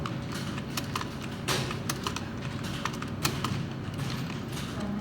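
Rapid keystrokes on a computer keyboard during a typing test, a dense, fast clatter of taps with a few louder hits, close and steady, with no talking.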